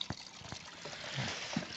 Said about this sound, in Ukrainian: Тепер бензину літру наливаємо